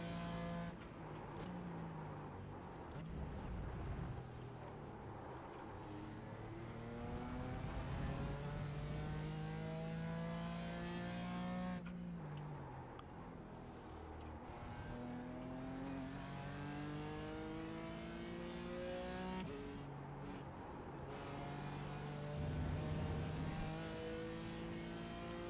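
BMW M4 GT4 race car in iRacing at Road America, engine revving up through the gears with rising pitch sweeps and shifts, steady and fairly close, no talk over it.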